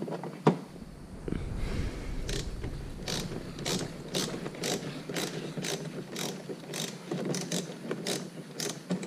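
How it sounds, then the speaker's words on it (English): Screws driven in by a ratcheting hand tool while fitting Roush rocker winglets to a 2017 Mustang 5.0: a steady run of sharp, evenly spaced clicks, close and moderately loud, with no talking. "So now, just gonna put the screw up in. There's 2 each side."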